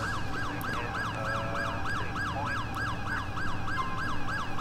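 Ambulance siren from the LCPDFR police game cycles in a fast, repeating wail, steady and fairly loud over low engine rumble, with no talking.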